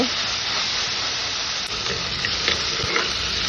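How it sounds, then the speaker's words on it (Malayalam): Curry leaves sautéing in a hot pan give a steady bright sizzle and hiss, close and continuous, with small crackles and stirring touches and no talk. "കുറച്ച് കറിവേപ്പില ഇടാം ഇതൊന്ന് വഴലട്ടെ"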